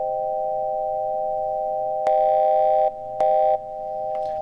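A steady pure sine-wave tone hums throughout under compression, twice joined by brighter, harsher sine tones for under a second each before fading back.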